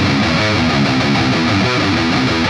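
Distorted electric guitar plays a metalcore build-up riff in harmony, dense, loud and continuous, with chugging rhythmic picking throughout and no talking.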